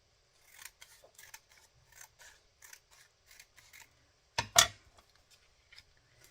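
Scissors snipping scraps of paper for vintage Christmas cardmaking, a series of light, crisp close cuts in an uneven rhythm, ending with two louder snips near the end.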